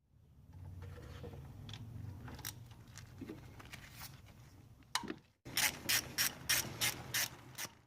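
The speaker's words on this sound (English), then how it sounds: "but I need to get that bolt out of there" A hand ratchet works a bolt out of the timing cover on a 2003-2006 Kia Sorento, first under a low engine-bay hum, then a close, loud run of sharp, evenly spaced clicks toward the end.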